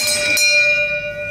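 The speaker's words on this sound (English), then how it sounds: "That's a bell." A single bell struck once rings out loud and close, its bright metallic tone sustaining with a steady, slowly fading hum and no other sounds around it.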